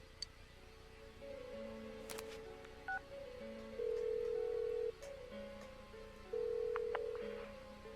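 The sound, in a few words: phone call dialing in video game Persona 4 Golden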